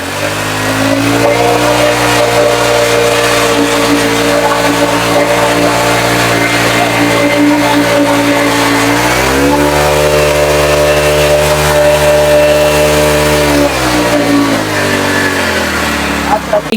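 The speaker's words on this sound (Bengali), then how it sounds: "এটা হচ্ছে ফরেস্টক 120 সিসি, অনেক পাওয়ারফুল একটি মেশিন" A Forestock 120cc tiller engine runs loud and close with a steady buzzing drone, revving up to a higher pitch partway through, holding there, then dropping back to idle.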